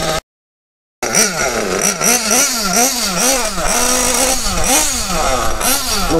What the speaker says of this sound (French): Allez, là je le laisse monter en température et je vous reprends après.